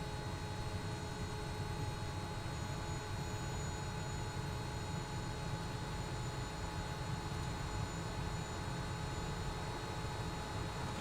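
Steady droning propeller turbine of a Daher Kodiak 100 taxiing in Microsoft Flight Simulator, a constant broadband engine hum with a faint tonal whine, even and unbroken throughout.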